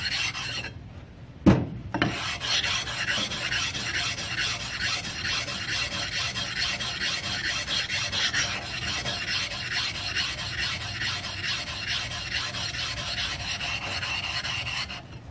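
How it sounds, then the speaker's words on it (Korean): A whetstone is flattened by rubbing it back and forth against a longer flattening stone, producing a continuous close gritty rasp with steady strokes and a sharp knock near the start; no one speaks. "그 부분을 더 긴 걸로 왕복 운동을 하면서 면을 고르게 잡겠습니다."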